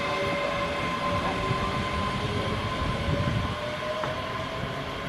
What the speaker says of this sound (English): And there goes the Alloa train